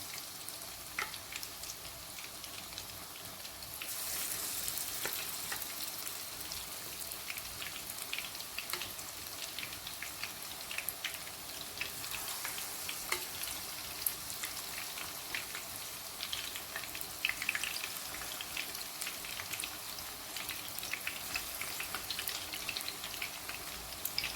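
Chicken pieces fry in hot oil for Korean sweet and sour chicken, a continuous crackling sizzle that swells a little after the opening seconds and stays even and close throughout.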